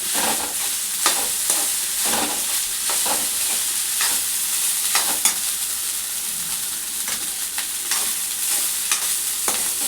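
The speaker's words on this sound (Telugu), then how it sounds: "ఈ అన్నము చలనం కదా ఇది మంచిగా వేడేంత వరకు మంచిగా దీన్ని కలుపుకోవాలి" Tempered rice (popu annam) is stirred in a hot pan as it heats, giving a steady close sizzle broken by repeated scraping strokes of the spoon throughout, with no talking.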